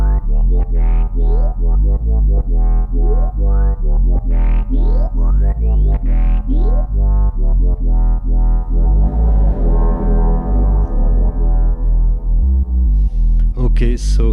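A dub mix moves from echo and drive into a modulation effect, with looping bass and percussion throughout and a swirling, phased wash of modulated sound sweeping in over the final third.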